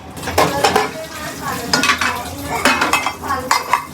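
A tea pot scrubbed and rinsed at a sink, close metallic scraping and clattering in quick repeated strokes with splashy water, no talk.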